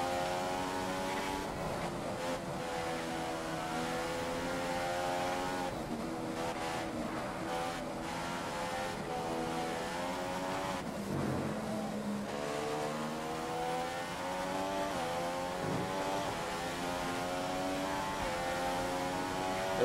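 A Formula 1 racing car engine in the F1 2015 video game at the Chinese Grand Prix, a continuous loud whine rising and falling through gear changes, with braking dips mid-lap.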